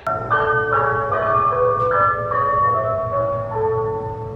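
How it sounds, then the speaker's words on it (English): Ice cream truck jingle playing loudly outside a garage, a bright repeating melody over a low engine hum, close and continuous for the whole stretch. "I'm gonna wait for the ice cream man to pass because it's obnoxiously loud inside of my garage."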